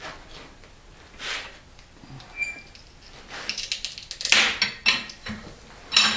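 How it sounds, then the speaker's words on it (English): A butternut is cracked along its major ridge, giving a few faint clicks and then a sharp, close crack or pop followed by scattered smaller snaps and knocks. "So we'll crack one along the major ridge."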